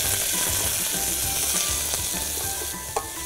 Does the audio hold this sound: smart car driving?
no